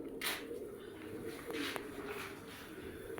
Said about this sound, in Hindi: ये कबूतर है जी माशाल्लाह